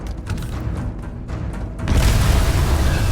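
Deep booming video game explosions in Starfield erupt after a quieter stretch of muffled thumps, swelling into a loud, rumbling roar that continues to the end.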